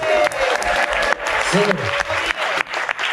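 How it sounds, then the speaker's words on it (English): An audience at a porridge-making championship in Carrbridge, Scotland applauds steadily with some cheering, loud and continuous, while someone speaks briefly over the clapping. "Give Neil a cheer."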